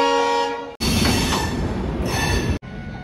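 A Rajdhani Express passenger train pulls into an Indian station, its loud horn sounding in a long blast over the heavy rumble of passing rail cars, and a second short horn note near the end.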